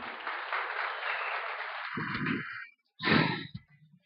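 An audience gives requested applause, a steady wash of clapping for about two and a half seconds that cuts off into silence, followed by a short burst of breathy vocal sound.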